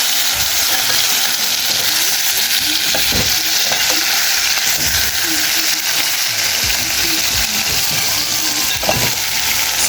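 Cassava pieces fry in a pan with plenty of oil and onion, giving a loud, steady sizzle throughout, with scattered scraping and stirring knocks and no talk.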